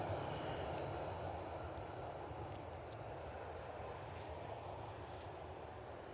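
A steady, distant airliner engine roar drones on at Manchester Airport as an Etihad jet pushes back, broadband and unchanging throughout.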